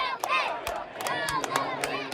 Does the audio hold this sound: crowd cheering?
yes